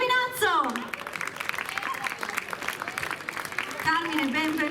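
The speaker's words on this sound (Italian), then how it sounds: "Accogliamolo con un caloroso applauso" A crowd gives chef Carmine Giovinazzo a warm round of applause at a beachside event in Caorle, with a voice speaking over the clapping at the start and again as it thins out.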